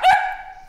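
An imported pet dog gives a single sharp, close bark that quickly trails off into a fading tonal ring.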